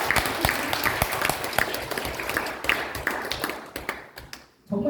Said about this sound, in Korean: 정말 고맙다고 박수 한번 보내주세요